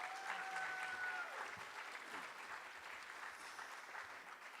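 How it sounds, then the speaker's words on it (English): An audience applauds at a ceremony marking National Adoption Day in Delaware, a steady, fairly faint patter of many hands clapping throughout, with a brief voice or tone near the start. "So let's give her a big round of applause,"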